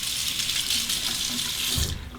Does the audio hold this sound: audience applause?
no